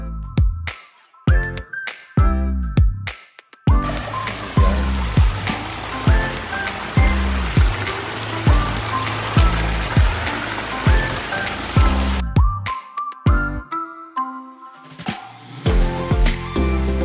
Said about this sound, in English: So let's check out a beautiful Pondless waterfall.